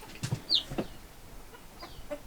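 Free-range backyard chickens cluck in a few short, scattered calls, moderately close and fairly quiet over an outdoor background.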